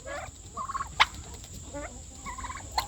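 Several grown turkeys gobble in short bursts, rattling calls spaced across a quiet outdoor backdrop with a couple of sharper sounds nearby.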